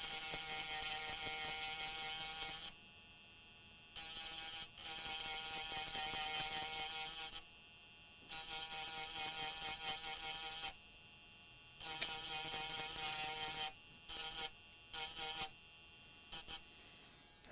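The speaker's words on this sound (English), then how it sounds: "I want to grind some on the left so we can see solder." A grinding pen grinds solder on a PS4 connector, a high whirring buzz in repeated bursts of several seconds, then shorter stop-start touches near the end, with no talking.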